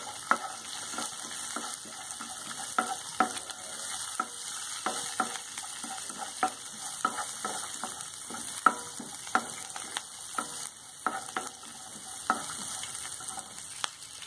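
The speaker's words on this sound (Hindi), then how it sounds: "दो मिनट के लिए जरा से काजू लाल हो जाए जब तक के भुनेंगे, मिर्ची का तीखापन भी भुनने से कम हो जाएगा।" Cashews and green chilies roasting in a pan, giving a continuous soft sizzle dotted with frequent crisp pops and stirring clicks, steady and fairly close.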